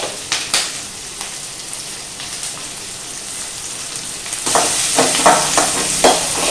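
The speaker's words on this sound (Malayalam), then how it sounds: "1 മിനിറ്റ് ആയി ഇതിങ്ങനെ വറുത്ത് പോരുക." Cauliflower frying in hot oil over a high flame for gobi manchurian, a steady hiss and crackle with occasional stirring taps that turns louder and harsher partway through.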